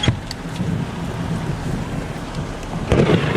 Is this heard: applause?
no